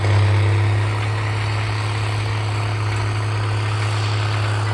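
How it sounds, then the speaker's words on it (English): A John Deere 9130 tractor engine idles steadily in a low, rumbling drone with a strong constant tone, alone and fairly loud throughout. "the old 9130 is snorting there"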